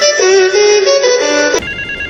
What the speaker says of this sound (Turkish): telefon çalıyor bir dakika